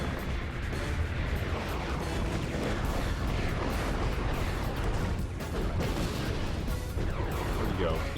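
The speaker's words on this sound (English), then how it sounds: "There you go. Eat a big bomb, dude. Eat another one." Big bomb blasts in Ratchet & Clank: Going Commando, a continuous roar of explosions and battle noise, dense and busy throughout with a voice talking over it.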